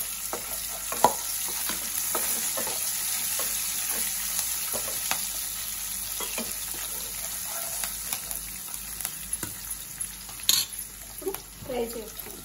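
Green chilies fry in ghee in a pan for jeera rice with a continuous close sizzle, broken by scattered clicks and scrapes of stirring, with a few sharper knocks near the end.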